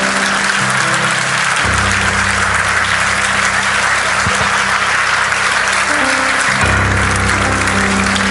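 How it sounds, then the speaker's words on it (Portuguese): Congregation applauding during a church healing and deliverance service, a loud, dense, sustained wash of clapping filling the room with low organ or music tones underneath, no speech over it. "Dê o seu melhor aplauso a Jesus"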